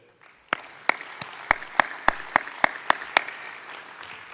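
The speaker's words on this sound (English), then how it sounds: "I'd like that we give a loud round of applause to them" Sparse clapping at an African blockchain conference session, greeting the event's sponsors: about ten sharp, separate claps at an even beat, as from one or a few people nearby over a quiet room, stopping after about three seconds.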